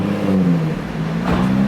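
A stock Nissan GT-R Nismo strains on a dyno, its engine and factory exhaust holding a loud steady drone that rises slightly in pitch, close and without voices.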